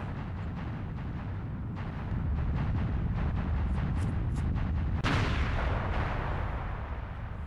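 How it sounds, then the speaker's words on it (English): A boss blowing apart in the game Goemon's Great Adventure: a steady run of rumbling explosion bursts that swells into a bright crackling blast near the end, loud and continuous with no talk. "And now, as always, bosses must explode."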